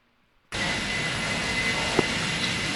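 The engine of a military free fall training plane starts abruptly and then holds as a loud, steady broadband roar with no talking.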